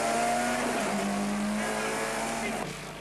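A little Mazda rally car is pushed flat out on a road stage, its engine holding a high, strained note with a slight pitch shift before easing near the end.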